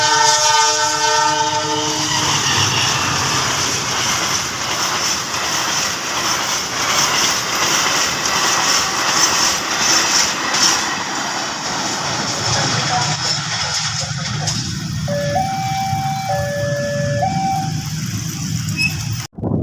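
A freight train hauled by a CC 204 locomotive rumbles and clatters past a level crossing in Indonesia, loud and close, with a bell-like warning tone near the start and a horn toward the end.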